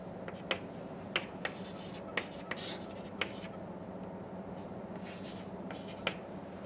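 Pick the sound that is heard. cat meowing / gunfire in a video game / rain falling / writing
writing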